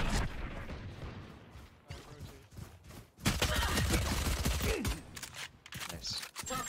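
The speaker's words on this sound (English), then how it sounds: "Swarm grenade out." A swarm grenade detonating during a competitive tactical shooter match, a burst of loud crackling blasts under continuous team voice chat, with scattered gunfire and footsteps around it.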